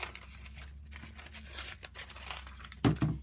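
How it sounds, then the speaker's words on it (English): Large scissors cut paper for a handmade Easter card, giving soft crinkling and rustling of the paper with a sharper snip and crunch near the end, close and alone. "I'm just going to use my big scissors so I can make this quick"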